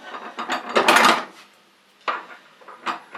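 A blade guard is screwed into place on a Bosch GTS10XC table saw, making close scraping, rasping turns in short bursts: a rough cluster first, then a pause, then two quicker rasps.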